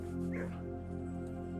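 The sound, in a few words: dog in the Blue Prince kennel, video game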